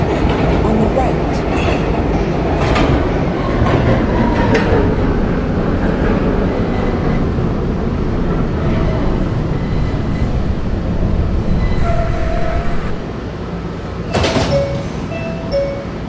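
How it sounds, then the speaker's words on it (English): Subway train in a Roblox game, a Q Express bound for Ridgeworth Island, running steadily with a continuous loud rumble and rail clatter, brief chime-like tones near the end and a drop in level as it slows. "This is a Ridgeworth Island bound Q Express train."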